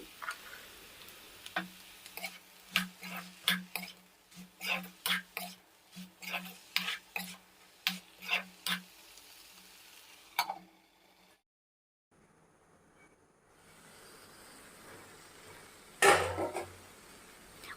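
Banana shoot and soaked chickpeas are stir-fried in a pan, giving a quick run of metallic clinks and taps from the spatula, then a brief lull and a single heavier clatter near the end.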